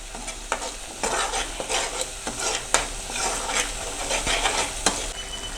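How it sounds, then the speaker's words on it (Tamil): Cabbage and carrot with salt being stirred in a pan, giving a steady scraping and shuffling of a spoon with a soft sizzle under it. Distinct strokes come at an irregular rhythm, close up, and nobody is talking. "உப்பு சேர்த்துட்டு உப்பு கரையிற அளவுக்கு இதை கலந்து விட்டுக்கிறோங்க"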